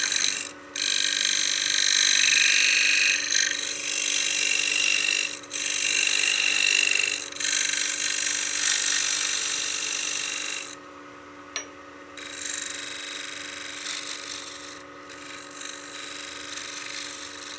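Lathe tool cutting wood while turning a coin box, a loud, continuous hissing scrape as the blade shears the spinning wood, broken by brief pauses, with a steady mechanical hum underneath.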